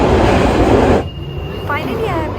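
A London Underground train on the way toward Bank: a loud, dense rush of train noise with rumble, then quieter carriage rumble where faint squealing wheel tones glide and waver.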